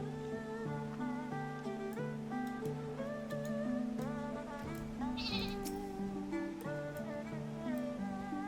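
A sheep mount in Final Fantasy 14 bleats over steady game music, a few wavering bleats standing out clearly, with no voices.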